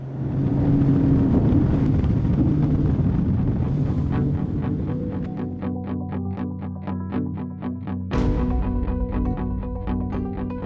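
An SPX RIB 24 boat cruising at 4,800 RPM, a steady loud engine drone mixed with rushing wind and water, with rhythmic thumps of the hull over waves.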